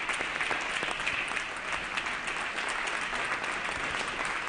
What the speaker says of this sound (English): So I think that is deserving of a round of applause in and of itself.